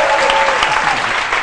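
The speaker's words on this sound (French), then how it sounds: "Des applaudissements pour lui, s'il vous plaît." Brief burst of studio audience applause for Chef Lazare on a midday TV show, loud, dense clapping with a faint tonal hum underneath.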